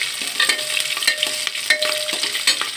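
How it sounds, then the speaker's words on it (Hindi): Cumin seeds, coriander and green chilies fry in a hot pan, giving a steady, close sizzle broken by several sharp scrapes and clicks of stirring throughout. "जीरा धनिया हरी मिर्ची को डाल लेंगे। उसके बाद इसे भूनेंगे"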